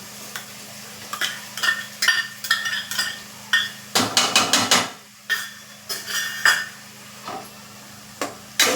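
A spoon scrapes around a pan, stirring tomato-garlic paste into fried onions amid a soft sizzle; the strokes come in a steady rhythm with a quick, loud flurry in the middle.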